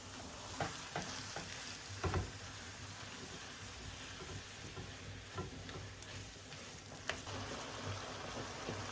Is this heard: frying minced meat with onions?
yes